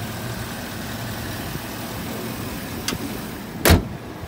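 A 2008 Chevrolet Suburban with a Vortec engine idles steadily with a low, even rumble, broken by a soft click near the three-second mark and a brief, sharp knock shortly after.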